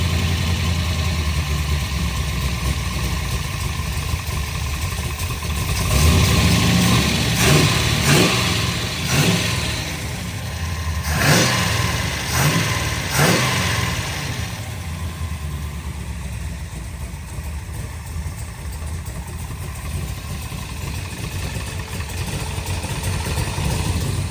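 A 454 Chevy Cobra engine idles loud and steady, then blips through a cluster of sharp revs in the middle before settling back to an even idle.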